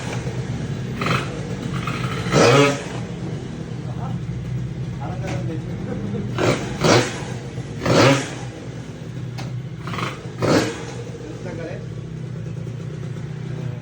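A tuned 86cc motorcycle engine idles and then revs in several short, sharp bursts. Each burst swells loudly and falls back to idle, while people talk nearby.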